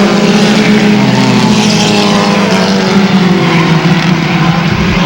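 A race car in trouble heads into turn 4 at a 1999 short-track race, its engine a loud, steady drone that holds close and constant throughout, with a faint rising and falling pitch and no voices.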